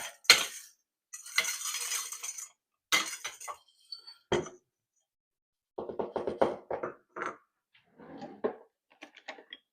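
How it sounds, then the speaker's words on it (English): Dehydrated onion pieces rattling and clinking into a half-liter glass mason jar in separate bursts, crisp dry pours and taps at close range, with quiet gaps between them. "I'm going to take this ½ liter mason jar, fill it up."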